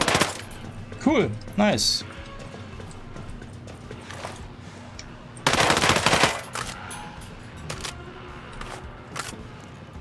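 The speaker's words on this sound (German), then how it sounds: "Ich will jetzt die P90 ausprobieren." A P90 submachine gun fires in a first-person shooter game in short bursts and one longer loud burst, with scattered single shots between them and someone speaking briefly.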